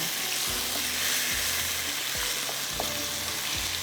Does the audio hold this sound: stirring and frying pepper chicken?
yes